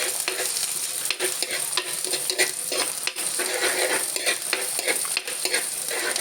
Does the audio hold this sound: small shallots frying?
yes